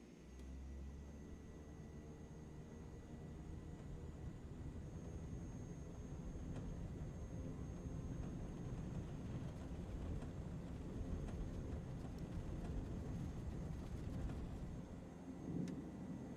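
Airliner engines spool up and roar steadily through a takeoff run in Microsoft Flight Simulator 2024, a loud continuous rumble holding near-constant level with a brief swell near the end.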